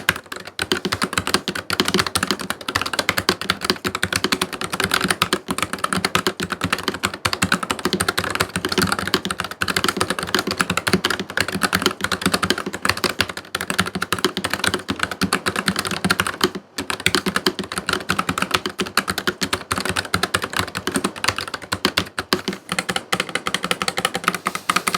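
Continuous rapid typing on a Nuphy Air75 mechanical keyboard with brown switches, dense clacking keystrokes at a steady pace up close, with only a brief pause partway through.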